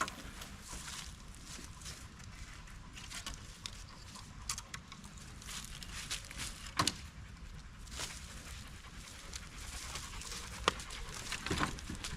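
A dog pants at a wild campsite, quick steady breaths close by and fairly quiet, with scattered rustles and small knocks around it.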